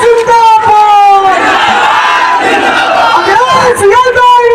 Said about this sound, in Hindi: भारत के भविष्य आदरणीय अखिलेश यादव जी के लिए एक बार और जोरदार तालियां बजाओ